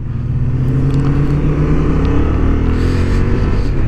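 A 2023 Honda XL750 Transalp motorcycle rides on a racing track, its engine note holding a loud, steady drone close to the microphone with slight shifts in pitch and no talking.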